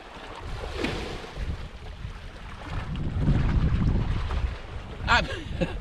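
Sea waves wash onto the shore at a fishing spot, heard as a windy, rumbling wash that swells and fades, with gusts of wind buffeting the microphone.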